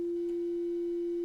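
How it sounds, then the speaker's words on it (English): A steady, pure sine-wave tone from a Raspberry Pi Pico's PWM audio output through a small filter circuit and output jack, holding one constant pitch at low volume with nothing else audible. "we're getting a nice sine wave, so my little output circuit's working fine"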